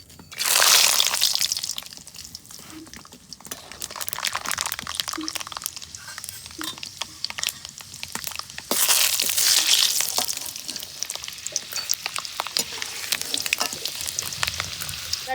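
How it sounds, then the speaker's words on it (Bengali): Raw peanuts frying in hot white oil, a steady crackling sizzle with the rattle of stirring and two louder surges of frying, heard close up. "বাদাম ভেজে নেবো, কাঁচা বাদাম"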